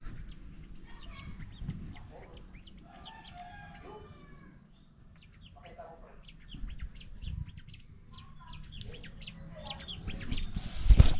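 Birds chirp and call in short scattered bursts after rain, with a rooster-like crow among them, over low rumbling background noise that swells louder toward the end.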